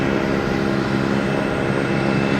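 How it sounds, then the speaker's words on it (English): A JetBlue Airbus A320 arriving from Austin at Boston Logan at night, a loud, steady engine roar that holds level and unbroken. "We got JetBlue coming in from Austin,"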